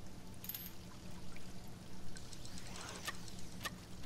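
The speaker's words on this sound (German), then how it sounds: "Die Jen kann dann auch duschen mit Seife." Shower water running in the survival game Sheltered, a steady pouring trickle with faint splashy detail and a few soft bird-like chirps, quiet and continuous with no talk.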